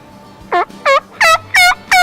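A big wild turkey gobbler gobbles five times in quick succession, loud, clear and close, each rattling call separated by brief gaps with no talking.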